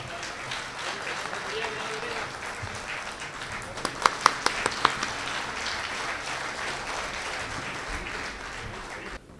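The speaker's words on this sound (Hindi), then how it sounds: "मुझे खुशी है कि आप मेरे अच्छे जुमलों पर भी तालियां बजाते हैं" Audience applause at a mushaira, an Urdu poetry gathering in Kuwait, sustained at a steady level under a noisy hall, with a few sharper individual claps standing out near the middle.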